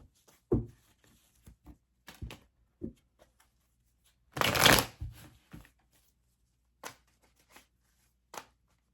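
Tarot cards are shuffled by hand, with scattered soft flicks and slaps and one louder riffle in the middle, close and quiet with no voices.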